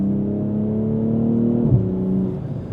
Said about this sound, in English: Car sounds really throaty.